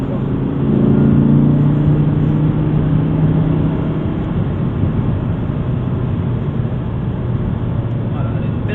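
An Audi R8 V10 engine roars steadily on a race circuit, building in speed, with rushing road and wind noise and no talking.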